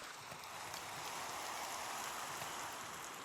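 Rain falling in a video game, a steady, even wash of dense droplets on surfaces, continuous and moderately loud with no talking.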